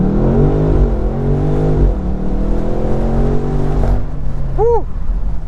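A 2023 BMW M850i convertible's V8 revs hard under full acceleration, the engine note climbing through rising tones, dropping sharply at a gear change and climbing again, loud and close, before easing off.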